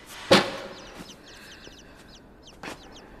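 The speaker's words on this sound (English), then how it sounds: "Chicks! Or birds." Chicks or small birds clucking and cheeping in the video game Inside, with a sharp sound burst near the start, another around the middle and quick high chirps scattered across a quiet background.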